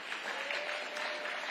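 A brief burst of continuous crowd applause, steady and fairly full throughout, with no speech over it.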